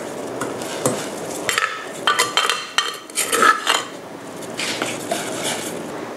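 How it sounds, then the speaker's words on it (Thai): Pounded curry paste scooped from a pot and stirred into boiling beef broth for a Thai beef curry, with clinking and scraping of a metal spoon against cookware in irregular taps, close and alone. "ตักเครื่องที่โขกแล้วนะคะ ใส่ลงไปค่ะ"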